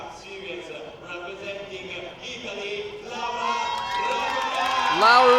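A crowd cheers and whoops at a youth world championship climbing lead final in Arco as a young climber is introduced, building from murmur to loud, excited shouts with an announcer's voice over the top.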